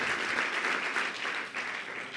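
An audience at a talk gives a short round of applause for the translator, a fairly soft, even patter of many hands clapping, heard alone for a couple of seconds.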